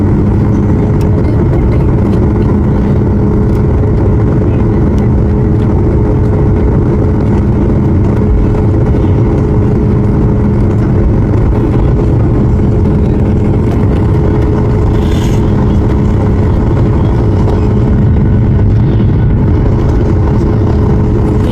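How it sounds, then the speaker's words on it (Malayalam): Airplane engines roar loudly and steadily close by as the plane accelerates down the runway for takeoff, a dense, unbroken drone with no voices. "സ്പീഡ് കൂടി പറക്കാൻ പോവാണ്."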